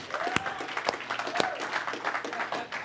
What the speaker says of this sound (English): now I think we can clap a little better than that for the story.